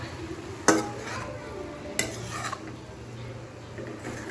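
A spoon stirs carrot halwa in a pot in a home kitchen, giving two sharp metallic knocks and soft scraping over a low background hum.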